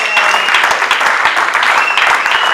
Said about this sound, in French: Est-ce qu'on peut applaudir pour Jésus-Christ?